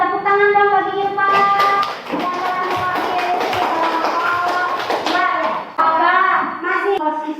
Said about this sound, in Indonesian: Tepuk tangan dong bagi Irfa.